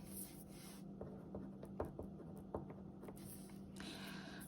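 Marker or chalk writing on a board during a geometry lesson, soft scratchy strokes and taps at a steady pace, with a low hum underneath and no talking.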